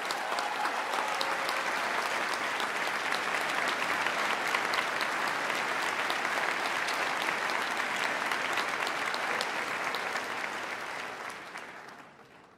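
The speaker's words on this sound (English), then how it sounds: "Let's give Geraldine a big New York round of applause." A large audience at a 2011 New York State of the State address gives a long, dense round of applause that holds steady and loud, then fades out toward the end.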